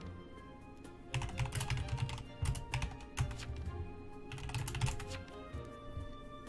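A computer keyboard clicks under rapid, uneven typing during an online game of Town of Salem, coming in clustered bursts of keystrokes over a low steady background hum.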